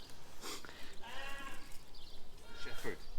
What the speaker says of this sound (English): Some itinerant goats walking up the road.